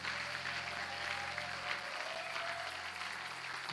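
A church congregation applauds together in steady, dense clapping that stays constant and fairly loud throughout, with a faint sustained tone and low hum underneath.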